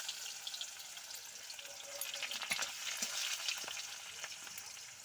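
Onions fry in a pan for ghugni with a faint, steady hiss. Soft scattered crackles and light stirring sit low in a quiet room.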